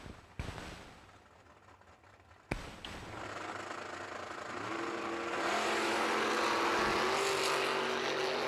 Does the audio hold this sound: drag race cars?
yes